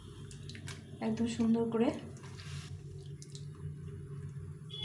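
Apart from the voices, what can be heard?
stale rotis being washed in hot water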